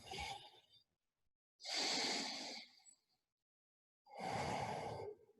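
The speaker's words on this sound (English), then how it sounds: "take a deep breath right there" Three long, breathy inhale and exhale sounds during a posture flow exercise, close to the mic, with pauses between them and no talking.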